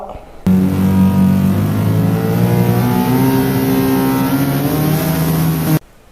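A Toyota Alphard car pulls away with a steady, loud engine drone that rises slightly as it accelerates, continuous for several seconds before cutting off abruptly.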